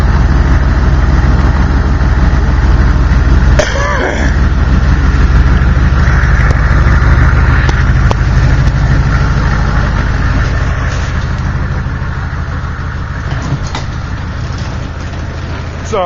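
A 1993 Chevy truck with a 350 engine idles close by with a loud, steady low rumble that runs throughout, with a few faint knocks and clatters over it.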